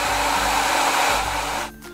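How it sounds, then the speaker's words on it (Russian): Hair dryer blowing hot air onto a doll's hard head to soften it, a loud steady close-up whoosh that runs continuously before dropping in level near the end. "делать я это буду с помощью фена"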